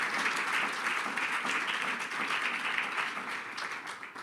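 A church congregation claps loudly in praise, a dense and steady wash of many hands filling the room for about four seconds with no voices over it.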